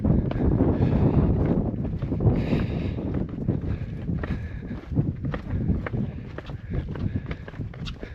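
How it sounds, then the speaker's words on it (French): Wind buffets the microphone on an exposed hiking trail, a loud rumbling gust with shuffling footsteps and faint voices in the background. "Puis il y a du vent, effectivement."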